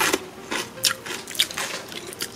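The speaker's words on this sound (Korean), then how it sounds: "제가 하나 먹어보겠습니다." Biting and chewing a crunchy pickled split red plum (hongmaesil, namgo variety): a few close, crisp crunches and wet chewing sounds in short bursts, with no talking.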